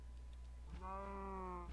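A cow in the video game Minecraft gives a single drawn-out moo, faint and alone over a low background hum.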